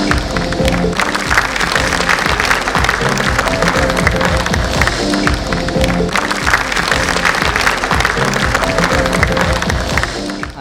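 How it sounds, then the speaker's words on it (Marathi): Loud, sustained applause and clapping from a large crowd at a Marathi dance show, honoring the makeup artist, dense and continuous across the whole stretch. "प्रियंका मॅडमसाठी जोरदार टाळ्या वाजवल्यात"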